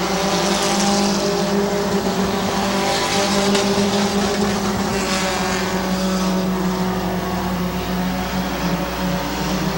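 Stock cars race at Midvale Speedway, their engines a loud, steady roar that stays strong throughout, with several cars running together and swelling slightly as they pass.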